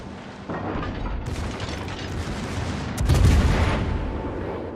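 Warship guns fire in World of Warships with a loud booming salvo aimed over a destroyer. Deep low rumble swells midway through steady battle noise.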